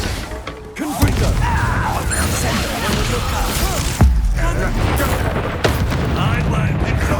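A Confringo fire spell exploding in the PS5 game Hogwarts Legacy during a castle duel: sharp blasts and thuds land close and loud over continuous combat noise, with a voice shouting among the effects.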